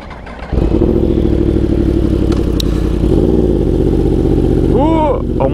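Yamaha R1 sport motorcycle riding along a bumpy road, its engine a loud, steady close-up drone with a rising pitch shift near the end and light rattling over the rough surface.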